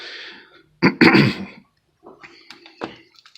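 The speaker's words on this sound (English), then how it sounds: "Sorry, clear my throat." A person clears their throat with one sharp, harsh burst up close, followed by quieter rasping breaths.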